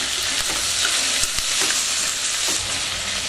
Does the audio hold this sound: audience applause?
no